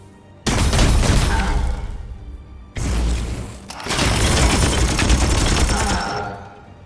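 Heavy gunfire in the Warhammer 40k: Chaos Gate Daemonhunters video game: a loud, dense burst of shots with booms, a short lull, then a second sustained volley that fades out.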